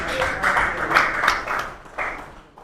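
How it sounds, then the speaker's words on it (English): Applause for the president of the Nigerian urban and regional planners' institute at a press conference, a moderate round of clapping from a small audience that fades toward the end. "We have another round of applause for Mr."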